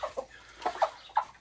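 Roosters and hens cluck at a poultry yard in the evening, a few short, close clucks in quick irregular bursts with quiet gaps between them.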